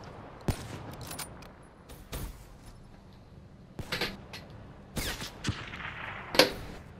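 Gunfire in Call of Duty: Black Ops III, with several sharp, loud shots spaced irregularly over a few seconds against a low background of game ambience and movement.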